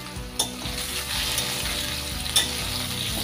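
Taro (kochu mukhi) frying in a salted pan with the lid off, giving a steady close sizzle. A spoon stirs it and knocks against the pan twice.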